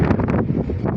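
Strong gusty wind buffets an outdoor rooftop pigeon loft in Imbaba, a loud rough roar with rumbling microphone blasts and rustling, surging and easing within a second.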